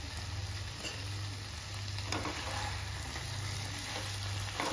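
Chicken fries slowly in ghee under a lid on low heat, giving a steady, muffled, even sizzle that holds at one level throughout with no voices.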